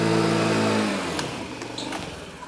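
A small Honda Moto Compo scooter's engine revs hard, then the pitch drops and fades as the scooter slows for a braking skid. The motor is close and loud, with a few sharp clicks near the end.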